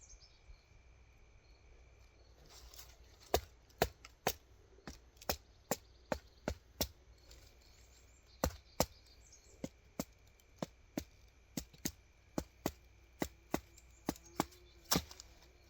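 A stick being split with a knife to make tongs, heard as a series of sharp, close wooden taps and cracks in uneven bursts, over a soft outdoor background with a steady insect drone.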